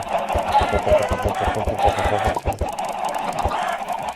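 Chickens in the video game Minecraft cluck in a quick run of short, sharp pecking clucks, then a few more, close and loud, with someone talking over them.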